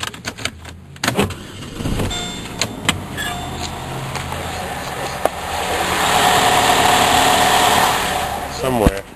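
Chevrolet Malibu engine cranks over and settles into a steady idle close by, with scattered clunks and a rise in engine noise midway through.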